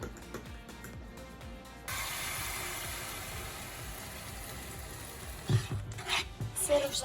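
Food sizzling in a hot pan with egg, pasta and meat, a steady hiss that starts abruptly and continues, with stirring and clattering near the end.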